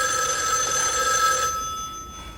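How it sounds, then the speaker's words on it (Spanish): An old telephone ringing, a steady electronic bell tone with bright sustained harmonics that sounds for about a second and a half, then cuts off and leaves faint room noise. "incluso un teléfono que suena"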